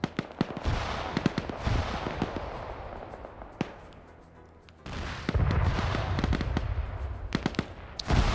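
BMP-1 armored vehicles shelling a tree line in a multiplayer war game, heavy bursts of cannon fire and explosions crackling continuously, mid-distance and fairly loud, dipping briefly before another dense barrage.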